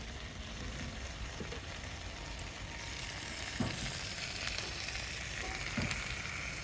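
Small fish frying on a banana leaf, a soft, steady sizzle with faint crackles, quiet and close with no voices.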